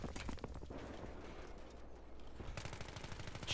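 Distant, faint bursts of automatic gunfire in a Battlefield match, a rapid clatter of shots at the start and again near the end, separated by a quieter stretch, without talk.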